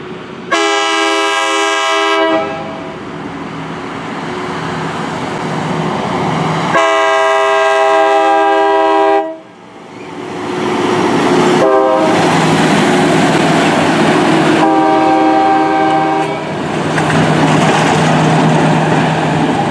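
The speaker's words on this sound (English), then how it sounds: "Once the loram rail grinder got past us" A Loram rail grinder train at a road railroad crossing near Omega, Ohio sounds loud, repeated horn blasts over a heavy, continuous roar of passing rail equipment, very close.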